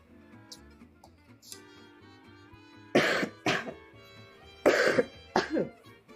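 Several harsh coughs break out in quick clusters, close and fairly loud, in an art studio over a faint steady background tone.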